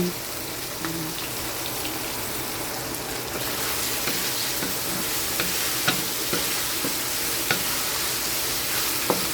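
Shrimp paste (alamang) sautéing with cooked tomatoes in a pan for a squash and shrimp vegetable dish, a constant dense sizzle with occasional sharp clicks of a utensil against the pan, heard close and without speech.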